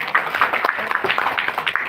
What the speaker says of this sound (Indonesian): Boleh tepuk tangan untuk Pak Irfan?